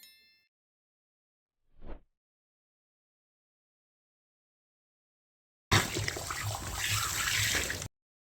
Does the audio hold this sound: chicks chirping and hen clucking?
no